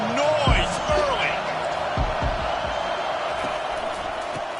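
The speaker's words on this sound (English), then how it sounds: "This crowd bringing the energy and noise early." Stadium crowd roar in the college football video game NCAA 25, a steady loud wash of cheering with sharper bursts early on, running continuously beneath commentary.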